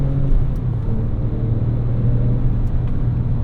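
A manual Porsche 911 Turbo of the 997.1 generation runs steadily in fourth gear, its engine a loud, continuous low rumble heard from inside the car, with no talk over it.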